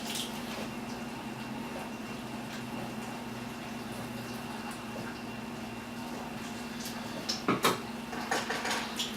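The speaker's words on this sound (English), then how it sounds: "Stir that bad boy in there" A spoon stirs vanilla into a pot of chocolate mixture over a low steady hum, with a few quick clinks and scrapes against the pot near the end, close and quiet.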